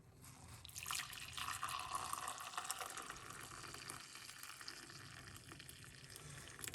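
Parsley and lime tea is poured off, a soft running trickle of liquid with light splashing that swells early and then settles into a steady flow, heard alone and fairly quiet.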